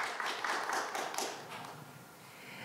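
Audience applause at a youth startup pitching day, welcoming a judge from an investment firm. Soft, fairly distant clapping from a crowd continues steadily throughout, with no talk over it.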